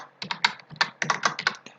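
Quick, close keystrokes on a computer keyboard in a rapid, uneven burst of about a dozen crisp clicks, with no speech.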